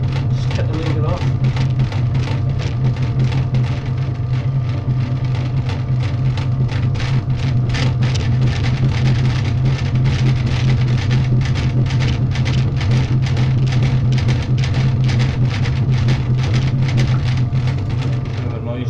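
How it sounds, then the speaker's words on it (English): A noisy potter's wheel hums and rattles steadily and loudly throughout as a castle burner cylinder is thrown by hand, with a constant low drone and gritty whirring texture. "Kind of a noisy wheel this."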